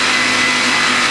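A blender blitzing basil with olive oil for pesto, a steady loud whirring motor drone that holds evenly throughout without pause.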